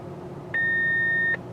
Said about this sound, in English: and there's the beep